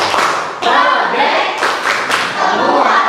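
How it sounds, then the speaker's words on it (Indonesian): A school class performs the rhythmic P5 clap routine, loud claps in a chanted pattern mixed with the group's voices calling out the words, close and energetic. "kita tepuk P5 lagi sekali biar semangat"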